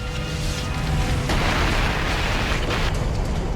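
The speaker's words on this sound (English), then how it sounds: "A massive explosion rocks Forrestal" A massive explosion tears through the aircraft carrier Forrestal during a deck fire, a loud, sustained roaring blast that swells abruptly partway through and rumbles on without voices.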